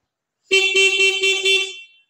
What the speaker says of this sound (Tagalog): Syempre may busina.